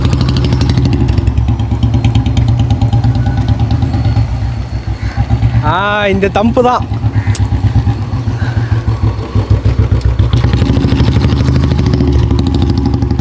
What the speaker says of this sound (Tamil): அவங்களோட பைக் சவுண்டெல்லாம் இந்த மாதிரி தான் இருக்கும்